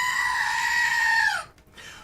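A goat bleating sound effect: one loud, sustained nasal cry that bends downward in pitch at the end, heard alone.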